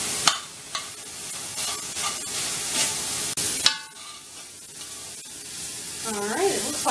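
Hamburger meat sizzling in a pan on a stovetop while it is stirred, with a constant frying hiss broken by sharp utensil scrapes and clacks, and a voice briefly heard near the end.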